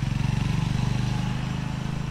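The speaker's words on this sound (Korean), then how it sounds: "이거 경운기 엔진인데?" A power tiller engine at a farm-equipment shop in a remote village in Laos, a steady, loud, fast single-cylinder thumping idle, close and continuous.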